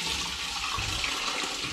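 Hop tea poured through a colander sieve into a pan during home brewing of a hops, lime and ginger cider: a steady, close splashing stream of liquid running continuously without pause.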